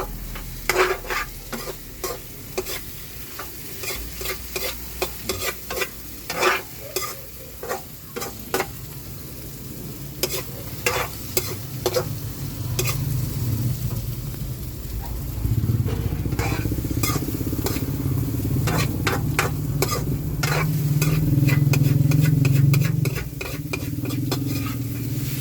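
An egg cooking in a pan, a continuous frying hiss with rapid clattering spatula strokes throughout, growing louder and fuller in the second half, with no speech.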